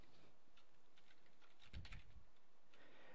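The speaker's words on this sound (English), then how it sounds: "I'll type in Great Video." Soft keystrokes on a computer keyboard, a short burst of faint taps clustered near the middle, against a quiet background hiss with no voices.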